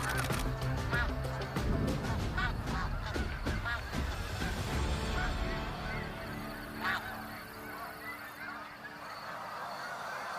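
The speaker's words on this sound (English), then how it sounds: "The snow geese flew in" A flock of snow geese honks loudly as it flies in, with dense overlapping calls near and far forming a continuous clamor that thins slightly toward the end.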